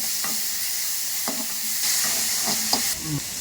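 Tomatoes fry in a pan for pepper chicken with a constant hissing sizzle as a spatula scrapes and stirs them in several distinct strokes, close and with no talk.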